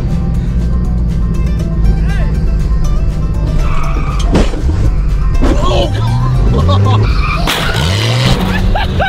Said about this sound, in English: That was just Evan maliciously slamming on the brakes so you rear-ended him.